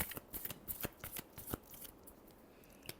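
Tarot cards are shuffled by hand in a series of quick, crisp riffling bursts, close and fairly quiet, with no talking.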